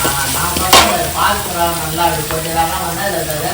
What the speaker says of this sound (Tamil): சாம்பார் வந்து நல்லா வதங்கிட்டு இருக்கு